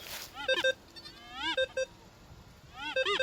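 Metal detector signal tones during a search near a tree stump: short repeated electronic beeps with rising pitched chirps, in three bursts, close and fairly loud.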